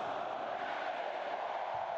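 A huge stadium crowd of about 105,000 football fans at Kyle Field roars as a steady, distant wash of cheering with no clear individual voices.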